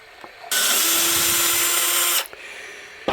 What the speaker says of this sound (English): Very handy, the old Electricum battery drill driver.